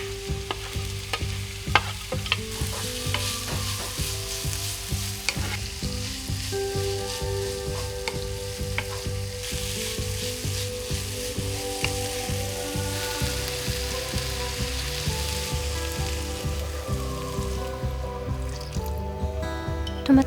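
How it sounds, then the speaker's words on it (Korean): Steady sizzling of chopped vegetables stir-frying in a pan for curry, with frequent scraping and clinking of a utensil stirring, continuous and close. "다진 채소를 넣어 익을 때까지 볶는다."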